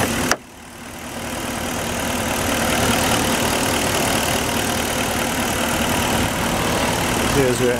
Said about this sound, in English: Here's your engine, nice and clean.